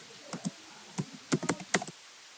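Computer keyboard keys tapped in quick irregular bursts, a few isolated strokes followed by a denser flurry, close and fairly quiet, with no talking.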